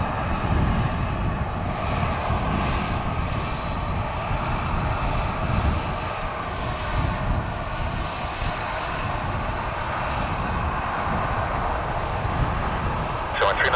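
Airliner taking off from runway 10 right at Dublin Airport, a loud, continuous engine roar that holds steady throughout, with faint radio talk underneath.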